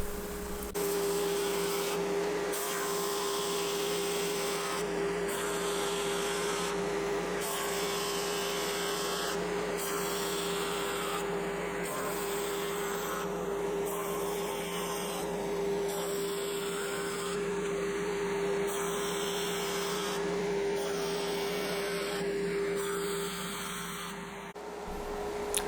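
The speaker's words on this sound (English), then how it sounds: "I run the board through the drum sander on both sides multiple times to knock the last of the glue remnants off of the board" A drum sander runs a glued-up wooden cutting board through, holding a steady loud whirring drone with a constant motor hum throughout and no talking.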